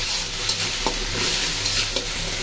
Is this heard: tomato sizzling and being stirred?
yes